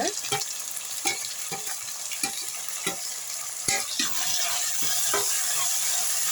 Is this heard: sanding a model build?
no